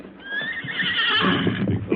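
A horse whinnies loudly and at length, a shrill, wavering neigh close by, with faint hoof movement underneath.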